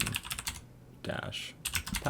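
Fast clattering keystrokes on a computer keyboard enter a sudo nano command while securing Ubuntu Linux, in two rapid bursts split by a short gap, close and moderately loud.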